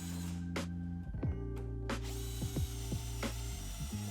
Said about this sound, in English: This jig made really easy work of drilling all of these holes